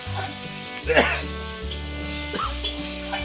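Steady sizzling and scraping of curry being fried and stirred in a pan, close and continuous, with a low hum underneath.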